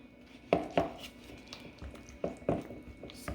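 A utensil scrapes and clinks against a bowl as sour cream is stirred, giving a few close, sharp knocks in quick pairs against a soft background.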